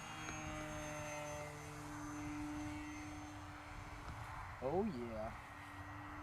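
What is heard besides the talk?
Hobby King Durafly Tundra V2 RC airplane flying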